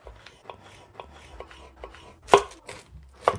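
A knife cuts habanero peppers in half on a cutting board, making a run of quick, light taps followed by two louder, crisper chops near the end.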